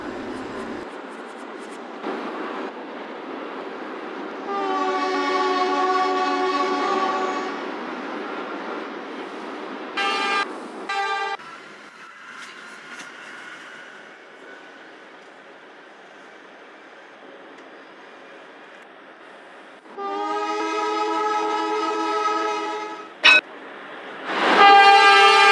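A Shinkansen bullet train's horn in the Trainz railway simulator sounds in long sustained blasts, one early and one later, with short clipped toots between and a steady rolling train hum underneath.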